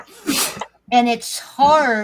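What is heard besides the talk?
sneeze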